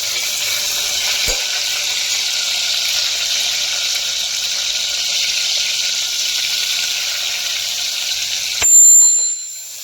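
Tomatoes frying in hot refined oil, a steady loud hissing sizzle throughout with a single sharp clink near the start and a louder clatter near the end.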